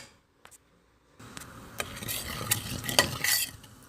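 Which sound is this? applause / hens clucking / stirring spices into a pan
stirring spices into a pan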